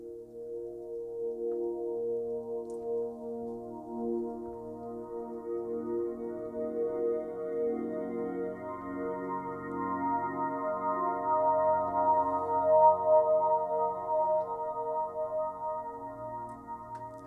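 Audio slipping through tuned bandpass filters in Ableton Live forms a soft, sustained harmonic pad of stacked steady tones that swells gently and holds, alone and fairly quiet.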